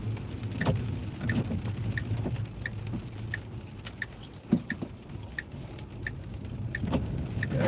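Steady patter of rain mixed with a little snow hitting a moving car, with road rumble underneath and scattered sharper drops tapping the roof and windshield.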